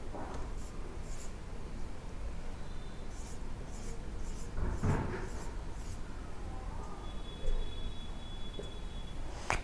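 Hand-written numbers scratched onto a surface during a class 6 mathematics lesson, a steady soft scratching and tapping of the writing tool at close range with no talk over it.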